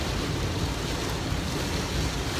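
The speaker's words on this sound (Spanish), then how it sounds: "Yo nunca había visto tanta agua cayendo como ahora." Heavy rain pours down in a Maryland storm, making a dense, steady rush of water noise, loud and constant with no pauses.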